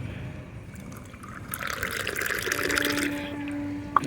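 An herbal powder stirred into hot water is poured from one vessel to another, a liquid splash and trickle that swells for a couple of seconds after a quiet start, ending with a small clink.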